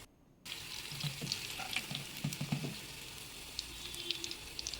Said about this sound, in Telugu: మనం ఇంతాక చేసుకున్న గోబీ మంజూరియా బాల్స్ అన్నీ వేసుకొని దోరగా వేయించుకోవాలి